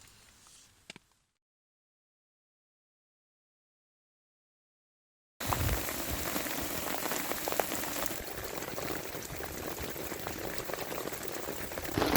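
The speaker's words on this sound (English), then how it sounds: "It was just pouring with rain the entire time." Heavy rain pounds a tarp shelter at night, a dense, loud patter of drops close overhead that starts abruptly after a stretch of silence and continues without let-up.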